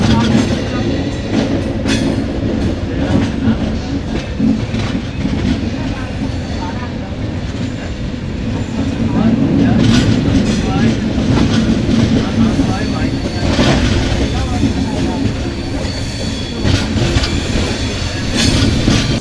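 The 12985 Double Decker Express runs from Jaipur to Delhi Sarai Rohilla, with a loud, continuous rumble and rhythmic clickety-clack of the wheels throughout, and a voice narrating over it.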